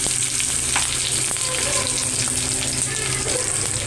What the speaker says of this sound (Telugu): ఫ్రై చేసుకుని స్టవ్ ఆఫ్ చేసుకుందాం.